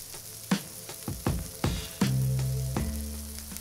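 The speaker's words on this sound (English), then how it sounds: "we're just gonna add our patties once the pan is hot and cook them for about 2 to 3 minutes on each side" Beef patties are laid one by one into hot olive oil in a pan, each landing with a soft thump before the sizzle builds into a steady close crackle, with no talking.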